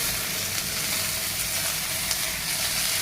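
Green chilli, ginger, onion and tomato sautéing in a pot for a one-pot poori masala curry, giving a steady, dense sizzle and hiss that runs unbroken and fairly close throughout, with no talking.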